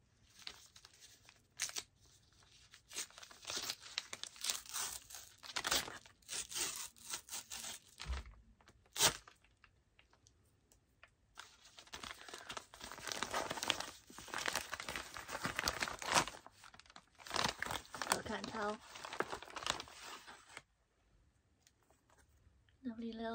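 Paper envelope with a small sticker seal being torn open and handled, giving long stretches of crinkling, ripping and rustling paper sounds close to the microphone, with brief pauses between bursts.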